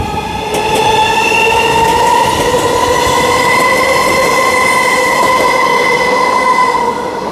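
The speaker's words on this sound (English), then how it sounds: "Here's our Ellenbrook train just departing" A nearby Ellenbrook line train departs a station and rumbles loudly past, steel wheels whining with sustained metallic squeals over a continuous rolling roar, no voices.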